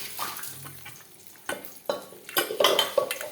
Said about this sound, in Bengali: বেগুনটা ভাজা ভাজা হয়ে গেছে মোটামুটি